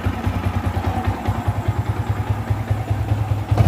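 A Yamaha Vixion (new NVL) motorcycle engine idles close by with a steady, rapid low thumping pulse and light mechanical clatter, running alone without talk.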